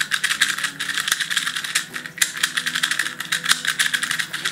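Rapid clicking and clattering of a YJ YuPo V2 M speed cube being turned quickly, continuous and close, with a light rattling texture.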